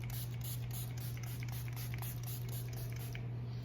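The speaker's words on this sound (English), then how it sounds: "we're actually going to spray it down with a little bit of setting spray" Milani setting spray mists onto a face during a makeup routine, a steady fine hiss with faint rapid pulsing, close and quiet over a constant low electrical hum.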